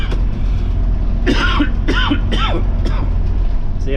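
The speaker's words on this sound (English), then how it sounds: "I'm still dealing with a little bit of the cough" A person coughs three or four times in a short burst, close by, over the steady low hum of a bus interior.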